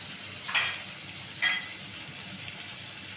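Chili powder, Kashmiri chili and coriander powder fry in hot oil in a pan, giving three short, sharp sizzling bursts spaced about a second apart over a quiet background.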